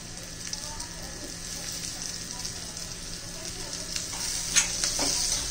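Hot oil tempering for dahi tadka, with spices and ginger-garlic, gives a steady soft sizzle with faint crackles and pops, close and moderately quiet, continuing without pause.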